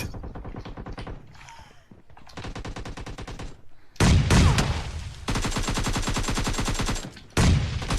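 Video game explosions and bursts of gunfire in a busy battle, repeated heavy blasts and rapid shots mixed with game music, with loud crashes building toward the end.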